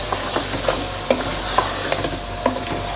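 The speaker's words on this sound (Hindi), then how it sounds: "और साथ ही मैं इसमें डाल दूंगी लहसुन अदरक का पेस्ट। और इसको अच्छे से भून लेंगे 2 से 3 मिनट तक।" Garlic ginger paste frying in a pressure cooker, a steady close sizzle broken by regular scraping clicks of a spoon stirring against the metal every half second or so.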